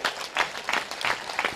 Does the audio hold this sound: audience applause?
yes